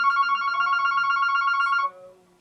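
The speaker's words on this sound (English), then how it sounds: "I'm going to take this phone out of here just because it's pretty loud" Telephone ringing loudly and steadily at close range in a sewing room, a sustained electronic bell tone that cuts off near the end, leaving a faint low tail.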